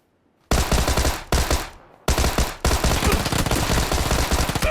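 Rapid automatic gunfire from a shooter video game, loud and sustained in dense bursts with brief gaps, a near continuous rattle of shots.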